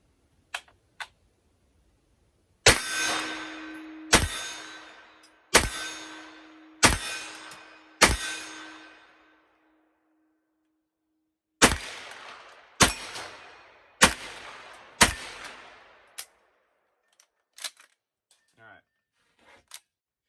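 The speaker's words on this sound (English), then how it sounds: "We're going to aim center mass and see if we can shoot center mass to the big guy" A pistol caliber carbine fires at a steel target in a series of sharp, loud shots, some with a ringing metallic hit, in two spaced volleys with quieter distant pops near the end.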